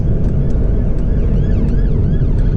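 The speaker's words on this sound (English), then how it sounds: "There's an ambulance here." A faint wailing ambulance siren sweeps up and down in the distance, partly buried under heavy, close traffic rumble and road noise at a bus stop.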